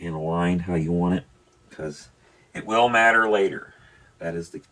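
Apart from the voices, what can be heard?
No distinct noise like a dog, phone or traffic.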